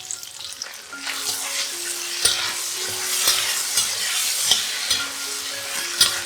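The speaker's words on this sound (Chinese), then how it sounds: "再加入8克的素蚝油，炒一炒" Tofu stir-fried in a pan with vegetarian oyster sauce, a steady close sizzle with repeated scraping stirs of the spatula against the pan throughout.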